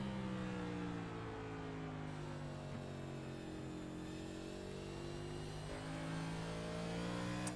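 Chevrolet Camaro race car in a racing video game, its engine holding a steady high drone with layered harmonics that rise and fall slightly, continuous and fairly loud with no talk.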